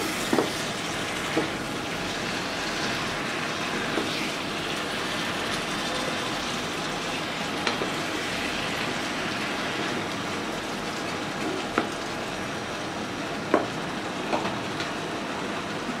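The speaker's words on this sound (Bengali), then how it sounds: "এবার বেগুনটাকে মশলার মধ্যে খুব সুন্দরভাবে কষিয়ে নিব শুটকির সঙ্গে।" Small eggplants cook down in spice paste with dried mola fish shutki for a chorchori, giving a steady, close, even sizzle throughout, punctuated by a few sharp clicks and scrapes of stirring, with no voices.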